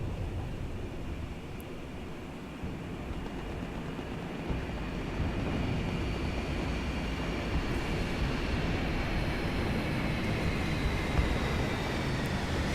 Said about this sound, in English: As loud as jet engines are and as annoying as that is when you're trying to focus on things, you do have to admit it's a really sexy sound.